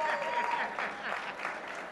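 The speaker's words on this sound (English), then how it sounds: "Yes, how about a big round of applause?" A short burst of audience clapping for the broadcast staff of a Hollywood-themed variety show, brief and moderately close, with speech running over it.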